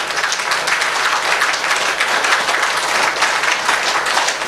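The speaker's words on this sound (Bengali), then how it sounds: "হাততালি দেবেন, দেন দেন।" An audience applauds steadily, dense clapping from many hands holding an even level for several seconds with no voices on top.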